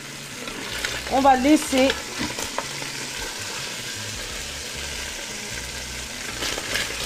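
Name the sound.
lamb stew sautéing and being stirred in a pot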